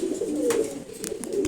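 A loft of pigeons, including a blue bar cock and a red checkered bird, gives a continuous close, low, throaty cooing, with a few brief fluttery clicks over the soft rolling calls.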